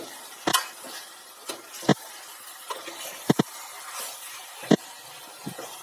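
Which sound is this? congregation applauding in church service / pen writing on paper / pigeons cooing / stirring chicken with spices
stirring chicken with spices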